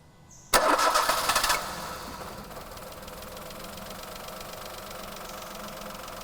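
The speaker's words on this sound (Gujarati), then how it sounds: "હવે આપણે એન્જિનને એકવાર સ્ટાર્ટ કરીશું આઇડલ સ્પીડ ઉપર" A car engine cranks and catches with a loud burst, then settles into a steady, quieter idle hum that continues to the end, during a PCV valve check.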